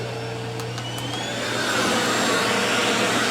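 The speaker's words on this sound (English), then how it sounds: "how well does this thing work as just a standalone vacuum?" A Yiktol pet grooming vacuum runs steadily with a loud motor whine that rises and strengthens partway through as the power is stepped up to level 3, heard close and alone.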